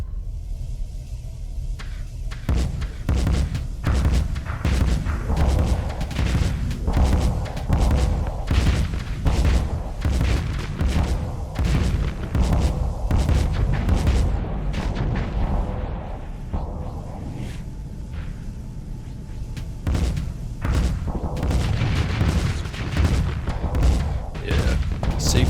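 A Starsector space battle: large missiles slam into a defending fleet, a dense, continuous barrage of loud, booming explosions and bursts with heavy low rumble and no pauses.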